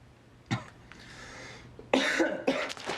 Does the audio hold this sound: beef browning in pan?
no